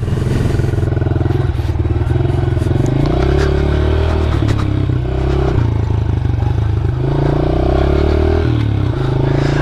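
A 2015 Honda CRF 110 dirt bike rides along close and loud, its small engine droning steadily with shifting pitch as it accelerates and eases, joined by clattering and scraping from the ride.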